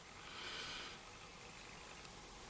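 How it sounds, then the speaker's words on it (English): A person takes a brief close sniff of Christmas spice tea, a soft airy inhale of about a second near the start, followed by quiet room hiss. "So let's give this a sniff."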